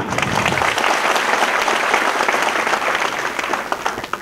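A crowd applauds steadily and loudly for several seconds at a student orientation event, dense clapping that eases slightly toward the end, with no one speaking over it.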